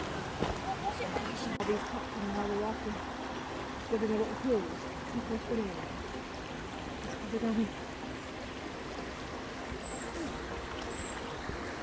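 Flowing stream water at a swimming spot in Eskdale, a continuous outdoor rush and trickle under steady nearby talking throughout.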